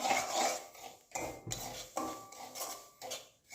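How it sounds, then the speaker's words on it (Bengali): Rice semolina is stirred dry in a lightly heated pan, making rough scraping and rubbing strokes with pauses between them, fairly close and with no voices. "এবার চালের সুজিটা একটু হালকা গরম খোলাতে ভেজে নিচ্ছি, যাতে কাঁচা গন্ধ না দেয়।"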